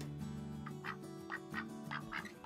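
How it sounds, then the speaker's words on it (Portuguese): A farm duck quacks several times in quick, evenly spaced calls over a low steady background hum. "pato também está presente em todas as fazendas"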